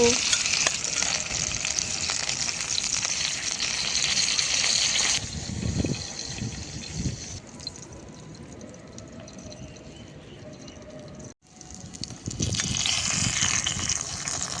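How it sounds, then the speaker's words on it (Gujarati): Tomatoes sizzle steadily in hot oil in a pan for a methi paneer dish, with scraping turns and a short gentle lull before loud frying returns; no voices. "આવી રીતે પલટાવતા જવાનું છે અને ટામેટાને સરસ ફ્રાય કરી લેવાના છે."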